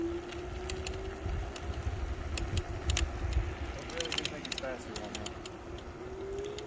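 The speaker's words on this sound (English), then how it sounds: "You can hear the motor." On a very windy day, an electric scooter's motor whines as it is ridden: a thin, steady tone that drifts slightly in pitch over rumbling wind noise, with scattered clicks and rattles.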